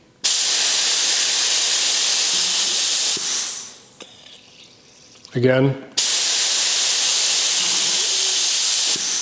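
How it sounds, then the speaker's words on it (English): A Harbor Freight Black Widow paint spray gun sprays against a black background in a workshop, giving a loud, steady hiss that stops, then bursts back on after a short pause, with a brief spoken word in the gap. "I'm going to shoot them against a black background so you can clearly see the spray pattern"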